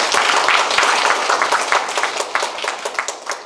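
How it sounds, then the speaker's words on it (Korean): Dense, steady applause from a crowd, many hands clapping at once, loud and sustained before tapering slightly toward the end. "박수 한번 쳐주세요"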